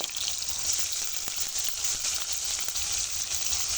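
Shrimp fry in hot oil with a strong, continuous sizzle that stays close and even throughout, with no talking.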